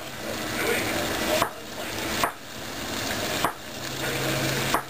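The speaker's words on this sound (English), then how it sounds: "And what I do is I slice them into thin slices." Onions sliced thin on a cutting board, a few soft knife strokes landing at a steady pace over a constant background hiss.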